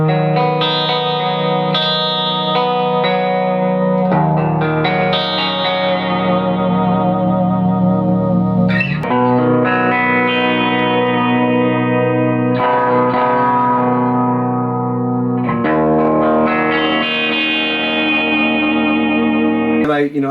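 A Gibson SG '61 reissue electric guitar is played through effects, sustained chiming chords and notes with chorus, echo and reverb washing together, loud and continuous for about twenty seconds.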